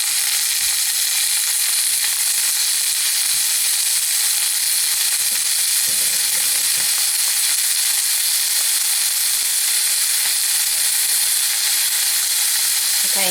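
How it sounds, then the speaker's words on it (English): Pork chops sear in a hot oiled pan with a loud, steady, close sizzle and hiss that holds evenly throughout. A couple of faint knocks come from the pan, and no one speaks. "We're just going to put it in this hot, hot pan. That's the sound you want to hear."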